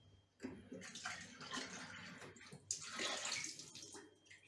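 Water poured into a cooking pot while making Malatya cherry leaf köfte, a steady rushing splash running through the clip with brief surges and no talk.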